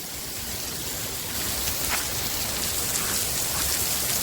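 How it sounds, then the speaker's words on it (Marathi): A waterfall drops from a height near a cave in Murbad, making a steady, dense rushing hiss that holds constant throughout with no voices. "आणि हा धबधबा बघा तुम्ही एवढं वरून पडतोय आणि इथे टच नाही डायरेक्ट खाली जातोय."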